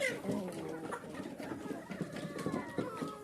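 Chickens on a farmyard cluck and murmur close by in a busy, overlapping chatter, with someone talking over them.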